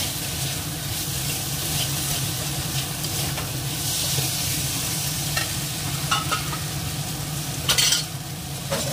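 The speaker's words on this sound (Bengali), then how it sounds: "আলু আর সয়াবিন দিয়ে একটু কষিয়ে নিই।" Potatoes and soybean chunks sauté in a hot pan with steady, dense sizzling and frying hiss, with occasional scraping from stirring and a brief sharper clatter near the end.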